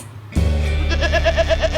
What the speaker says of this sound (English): That's a cashmere goat